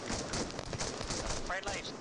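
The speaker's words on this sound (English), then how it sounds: "Red, covering fire." Rapid covering gunfire in the military shooter ArmA 3 during an Australian Armed Forces training exercise, a dense, continuous crackle of shots filling the short moment, with radio-style voices and chatter mixed underneath.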